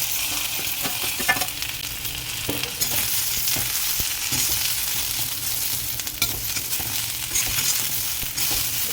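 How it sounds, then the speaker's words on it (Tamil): Mustard seeds tempering in hot oil for a spinach usili, a loud continuous sizzle close up with repeated scraping stirs and sharp crackling pops across the whole stretch. "ஸோ இதில் கடுகு தவிச்சிடலாம் இதை சேர்த்துருங்க"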